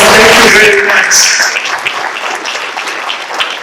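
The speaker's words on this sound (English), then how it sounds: "A round of applause, thank you very much." An audience applauds at the launch of an integrated location intelligence system: a loud, dense burst of clapping that starts strong and then eases off to a lighter patter, with voices heard over the opening.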